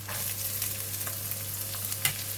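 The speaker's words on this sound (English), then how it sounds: "Continue to stir fry until the onions and chili become slightly soft" Onions and green chili stir frying in a pan, giving a steady low sizzle with soft scraping stirs and a small clatter near the end, heard alone.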